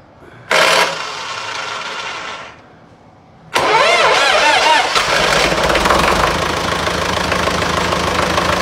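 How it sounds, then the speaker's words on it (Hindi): A homemade engine cranks with a loud burst, falls quiet briefly, then catches and settles into a steady, loud running roar that continues to the end. "हमारा इंजन जो है ना वो स्टार्ट हो गया।"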